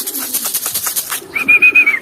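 Close pigeons flutter and shuffle with soft rhythmic wingbeats, followed by a brief nasal cooing call.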